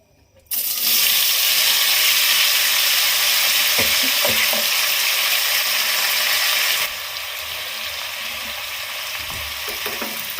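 Pieces of pointed gourd (potol) drop into hot oil and burst into a loud, dense sizzle. A few crackles come through before the hiss eases to a lower, steady fry.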